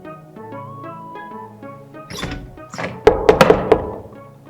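Someone knocks on a closed door, a short cluster of four or five sharp raps landing after a stretch of dull thuds and music-like tones.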